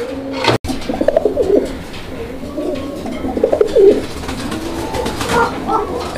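Pigeons kept for sale coo near at hand in repeated throaty phrases, several birds overlapping in an uneven rhythm with no talk over them.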